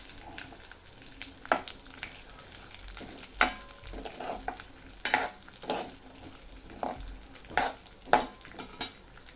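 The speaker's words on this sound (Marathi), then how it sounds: "आपण त्याच्यामध्ये जे हे मिक्स ड्रायफ्रूट आहे, काजू, बदाम आणि पिस्ता, ते गोल्डन होईपर्यंत थोडे परतून घेऊया।" Cashews, almonds and pistachios sauté in hot ghee while being stirred, giving a steady sizzle broken by repeated sharp scrapes and clinks of a utensil against the pan, with no one talking.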